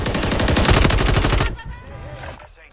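Rapid automatic gunfire in the Warzone video game, a dense burst of shots lasting about a second and a half that cuts off abruptly and leaves a brief fading tail.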